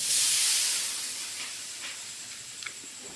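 Greens frying in a pan in a home kitchen, a strong close sizzling hiss that starts loud and gradually eases, with a few faint clicks near the end.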